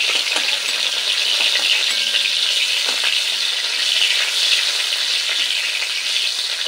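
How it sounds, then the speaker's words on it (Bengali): Bitter gourd slices frying in hot oil, a loud, dense, even sizzle with faint stirring taps, close and continuous throughout, no one speaking. "এবার উচ্ছেগুলো একটু নেড়ে নিয়েছি। এবার তেল থেকে তুলে নেব।"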